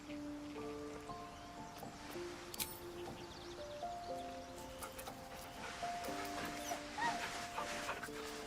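A dog in Baldur's Gate III whimpers and whines softly over a quiet musical background, with faint high cries recurring throughout.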